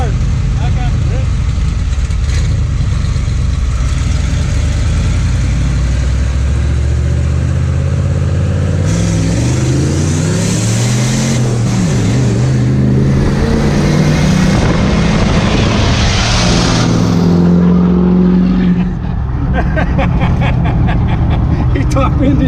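Diesel and gas pickup trucks roaring through a drag race, loud engines building and swelling as they pass close by, with people talking and shouting over the noise throughout.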